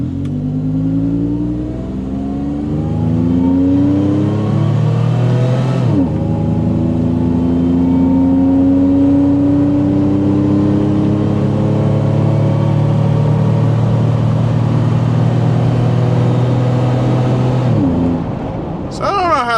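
Supercharged third-generation Toyota 4Runner engine droning loudly from the cab while driving with a stock 75mm pulley, revs climbing and dropping through shifts with steady whine-like harmonics.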